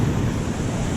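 Surf washes steadily onto the beach at Nature's Valley while fishing from the shore, a constant broad rush with wind noise and no voices.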